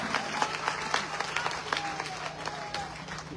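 An audience at a BJP convention in Nilambur applauds a newly announced committee, with dense, steady clapping from a sizable crowd and faint voices underneath.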